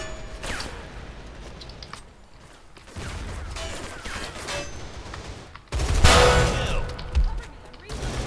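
Bursts of M4A1 rifle fire from the shooter Line of Sight come in separate rapid volleys broken by short pauses, loud and close, with mechanical clicks between them.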